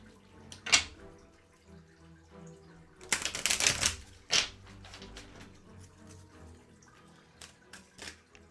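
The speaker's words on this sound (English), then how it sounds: "I'm going to give them one more good shuffle here" Quick bursts of riffling card shuffles, a few short flurries of papery flutters and clicks, close and moderately loud with quiet gaps between.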